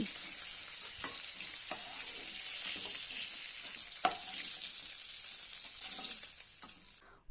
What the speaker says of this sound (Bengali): ওই তেলের মধ্যে দিয়ে দিচ্ছি লম্বা করে কেটে রাখা আলু আলুগুলোকেও আমি বেশ লাল করে ভেজে নেব